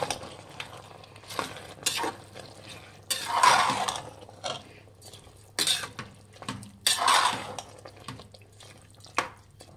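A spoon scrapes and clinks against a pot while soaked rice is stirred for Chettinad chicken biryani, giving intermittent bursts of scraping and soft sizzle over a low steady hum, fairly quiet and close.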